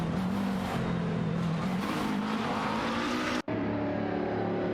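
McLaren 650S GT3 and Nissan GT-R GT3 race cars in a racing video game, a loud steady engine drone with shifting pitch, ending in a sudden brief cut before the engine tone resumes.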